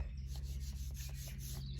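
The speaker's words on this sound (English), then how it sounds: "Here is the bits of wood that we'll be sanding today." Bits of wood are rubbed and sanded by hand in short, even strokes, a close, steady scratchy rasp with no voices.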